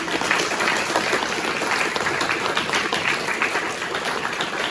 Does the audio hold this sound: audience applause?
yes